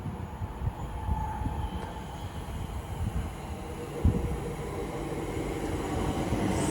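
A London Northwestern Railway electric unit arriving at Watford Junction on the West Coast Main Line gives a low, steady rumble with a thin high whine and a single clunk partway through, moderately distant and without voices.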